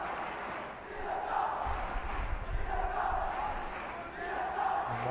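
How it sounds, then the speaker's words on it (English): Home crowd at an under-17 international football match between Sri Lanka and the Maldives roars steadily from the stands, a broad sustained cheer and chanting swell with rising surges, no clear single voices. "The home crowd really vocal here."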